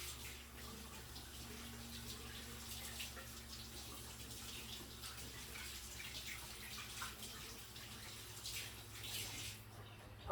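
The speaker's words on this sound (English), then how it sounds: "I'm going to rinse my hands real quick. And then, hold on, I'm washing my hands." Tap water runs steadily into a sink while hands are rinsed in a kitchen during tamale making, a soft continuous splashing flow, fairly quiet and close, with no talk.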